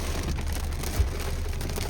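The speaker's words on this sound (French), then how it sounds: "Je vais juste me battre avec le vent et la pluie." Steady heavy rain with gusting wind during a thunderstorm near Seurre and Chagny, a dense continuous wash of noise with one brief low thump, no voices.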